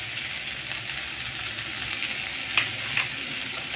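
Okra sizzles steadily in a pan as salt and turmeric are stirred in, with a constant frying hiss and a couple of faint clinks of a utensil against the pan.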